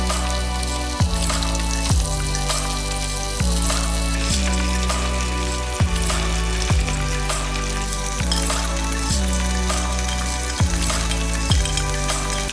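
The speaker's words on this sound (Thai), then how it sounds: "ใส่หมู3ชั้นที่เราสไลด์มาลงไปนะครับทอดให้ไม่แห้งมากนะครับ" Sliced pork belly fries in garlic oil in a pan, a loud steady sizzle broken by a regular series of sharp clinks as it is stirred, roughly once every second or so.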